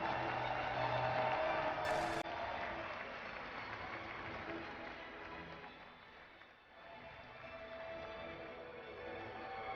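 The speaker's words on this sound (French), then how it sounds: "je voudrais un applaudissement unanime pour les GG Colnash." An esports final crowd applauds, a broad wash of clapping and cheering from a large audience that stays loud for several seconds, dips briefly, then swells again.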